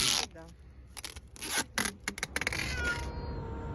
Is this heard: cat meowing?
yes